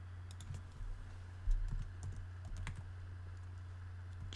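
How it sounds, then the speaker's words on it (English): Keys tapped on a computer keyboard in a short burst of quick, irregular clicks, close and moderately loud over a steady low hum, with no talking. "I'll type it out."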